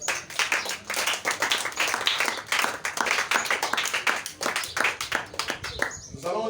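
A church congregation claps along in a steady, energetic rhythm at a Sunday evangelical service, close and continuous with voices mixed in.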